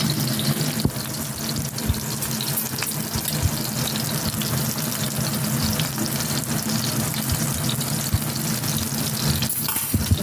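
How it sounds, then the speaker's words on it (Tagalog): Salmon frying in a non-stick pan with a little oil, giving a steady close sizzle and crackle throughout with small pops, no talking. "Frying with salmon fish."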